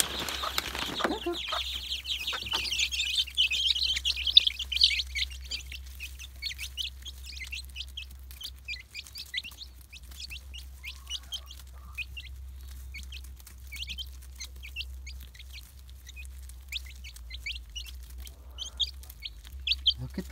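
Eager young chicks, some starting to fly, cheep and chirp in a steady stream of short high calls close by, with soft clucking and a low background hum throughout.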